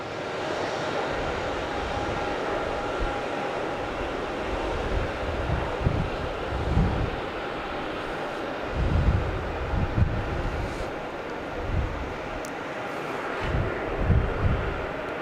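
A Boeing 737 MAX 8 jet at Logan Airport at night, a broad distant rumble of jet engine noise holding steady with wind buffeting the microphone, no talking.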